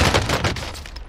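Rapid bursts of gunfire ring out in a shooter video game, loud and close at first, then fading within about a second.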